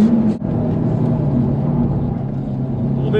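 An Audi RS3 powers out of a corner on a race track, its engine a loud, steady, close rumble that holds strong for the whole stretch with only a brief dip early on.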